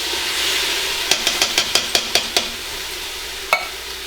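Diced canned tomatoes sauté in an Instant Pot under a steady hiss. A quick run of about eight sharp metallic taps follows, then one more tap near the end.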